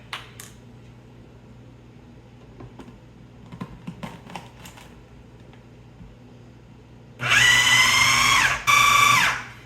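A food processor blitzes black beans and mushrooms in two loud, whirring bursts with a brief pause between, after a stretch of quiet clicks and taps.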